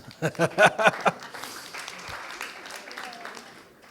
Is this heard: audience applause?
yes